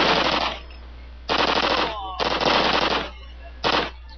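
Machine gun suppressive fire in Call of Duty 2's Stalingrad counterattack, four loud close bursts of rapid automatic shots separated by short gaps.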